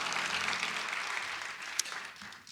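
A crowd applauds in a church during a sermon at a New Year revival service, with dense, steady clapping that gradually thins and fades toward the end.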